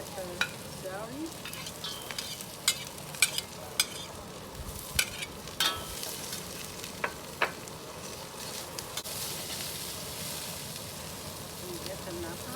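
Celery stir-fried in a hot pan for shrimp lo mein, a steady sizzle with scattered clicks and scrapes of a utensil stirring, close and moderately loud, with no talking over it.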